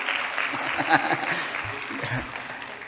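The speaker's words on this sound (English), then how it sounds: "So a round of applause for that." An audience at a closing ceremony applauds steadily for the whole stretch, a dense wash of clapping with a voice faintly underneath.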